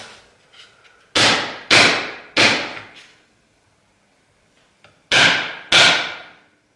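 Five loud, sharp pounding thuds, two close together, then a pair more after a pause, each ringing briefly; crushing lemongrass stalks with a heavy tool.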